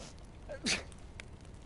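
A single short sneeze from a character in the video game DayZ rings out over quiet background noise.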